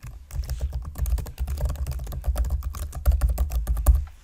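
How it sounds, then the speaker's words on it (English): Fingers typing on a computer keyboard: a rapid, close run of light plastic keystroke clicks with brief pauses, alone and without speech. "type in your email"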